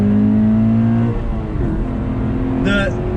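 A 2019 Subaru BRZ Series Gray sports car engine revs hard in first gear with a steady rising drone, then drops off as it shifts gear; a voice talks over it and a brief chirp from the rear follows.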